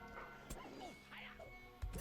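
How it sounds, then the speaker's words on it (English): A dog in an online role-playing game gives a few short yips and barks, faint and set back in a quiet mix of game ambience and soft effects. "well, that was a dog."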